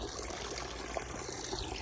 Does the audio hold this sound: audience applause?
no